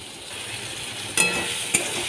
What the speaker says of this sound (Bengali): টমেটো কুচিগুলোকে ভালো করে পেঁয়াজ কুচি, টমেটো কুচি দিয়ে ভালো করে ভেজে নিতে হবে